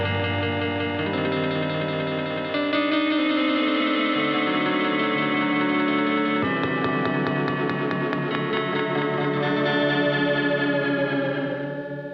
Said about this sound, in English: Now, this is not your dad's delay pedal.